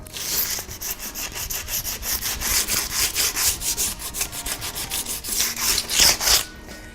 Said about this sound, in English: I'm going to give it a sand just to give it a little bit of a key